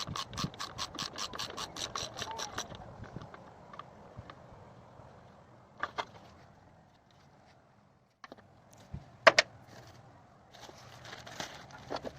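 A ratchet works on a bolt on a Subaru Impreza engine, giving a fast run of close clicks at first, then a quiet stretch broken by a few scattered clicks and clanks.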